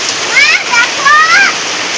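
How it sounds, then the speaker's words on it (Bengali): Heavy rain pours onto a pond outside a house, a dense steady hiss of falling water close by, with a voice and talk over it. "এই দেখো কেমন বৃষ্টিটাই না হচ্ছে বলো।"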